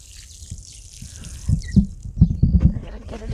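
Water splashing and dribbling onto garden soil from a hose during watering, with irregular bursts of spatter that grow louder toward the end; no talk.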